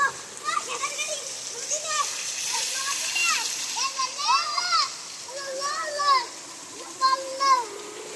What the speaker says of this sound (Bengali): ছাদ থেকে পানি পড়ছে